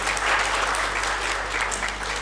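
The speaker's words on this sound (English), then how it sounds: "A big round of applause for all of them" At a business conversation event honoring women entrepreneurs, an audience gives steady, moderately loud applause with a constant low hum beneath it.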